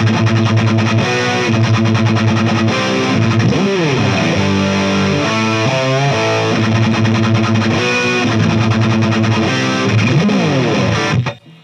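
Distorted electric guitar played through a Fender Tone Master Pro preset, heavy chorus-laden chords and sliding riffs ringing loud and continuous for about eleven seconds before cutting off abruptly.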